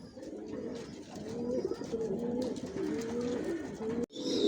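Johnson-line racing pigeons coo in a loft, with repeated low rolling calls overlapping closely and continuously, close and fairly loud, ending in a brief sharper burst.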